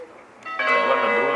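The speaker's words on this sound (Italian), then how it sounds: "Le campane." Church bells begin ringing partway through, a dense clang of overlapping tones that swells and keeps sounding, fairly loud and close.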